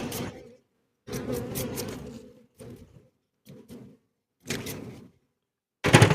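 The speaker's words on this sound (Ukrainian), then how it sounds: "Теж бачимо, бджілки сидять, струшуємо їх, обмітаємо." Honeybees buzz in short loud bursts as they are shaken and brushed off honey frames during harvest, each burst broken by silent gaps, the last one sharp and close.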